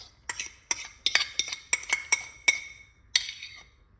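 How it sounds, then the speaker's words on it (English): A utensil scraping banana into a metal pot, a series of about a dozen sharp clinks and scrapes in an uneven rhythm, close and clear against a quiet background. "I scrape it into the pot right there like that."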